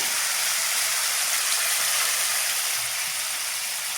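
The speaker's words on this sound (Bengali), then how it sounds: "সবজিগুলো ঢেলে দিব।" A wok of hot oil with cumin hisses in a steady, loud sizzle as vegetables for sabu khichuri cook, with no pauses.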